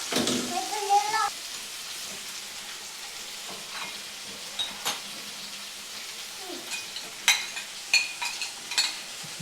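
Marinated chicken breast sears in a pan, a steady close sizzle running throughout with occasional sharper crackles and pops, while a person talks over it at times.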